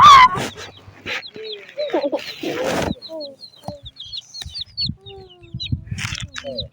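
Several chickens cluck and chirp in short bursts, close by, with a few louder squawks and some rustling in between.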